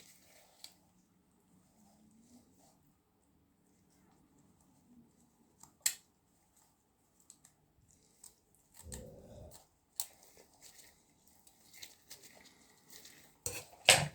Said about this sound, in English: I'll snap them with some scissors again, just gently.